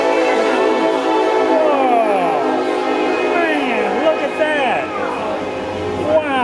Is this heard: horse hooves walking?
no